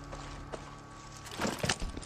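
Horse hooves clip-clopping in the video game Far Cry 6, a few soft, spaced hoof knocks over quiet game ambience, then a busier cluster of louder steps near the end.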